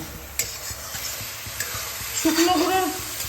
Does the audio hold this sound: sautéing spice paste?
yes